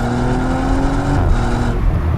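A 2023 Audi RS4 B9 drives fast with a steady, loud engine drone and a rising whine, heard from inside the car with no talk.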